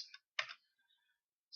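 A few quiet, isolated keystrokes on a computer keyboard, with a short cluster near the start and another near the end, as numbers are entered into cloud accounting software.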